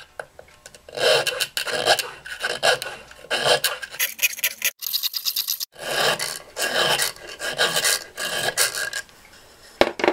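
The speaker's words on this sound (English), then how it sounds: "Now I'm going to file the adjustment slot into the tongue." A file rasps repeatedly across a thin brass reed tongue, cutting an adjustment slot, in steady close strokes with a brief pause midway before the filing resumes.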